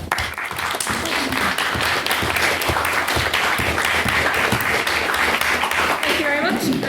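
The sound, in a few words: audience applause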